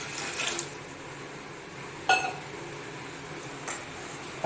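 Water poured into a vessel to dissolve jaggery in a home kitchen, heard as a steady faint trickle and pour with a couple of brief clinks of the container, no talking.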